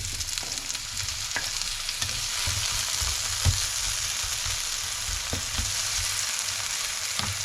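Eggs fry with tomatoes in a pan, giving a steady, continuous sizzle with scattered crackles and a few faint knocks, and no voices.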